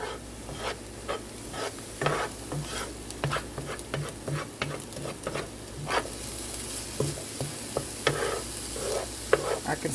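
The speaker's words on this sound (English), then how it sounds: "Let it caramelize down a little bit more." Pieces of oxtail sizzle and caramelize in a scratched skillet, with loud crackling and repeated scraping strokes of a spoon at a steady rhythm. There is no speech.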